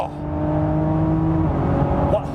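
A 2024 Lamborghini Revuelto supercar with 1,000 horsepower accelerating hard, its engine note holding a strong rising whine close by for a couple of seconds before easing off.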